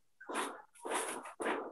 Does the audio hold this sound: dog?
yes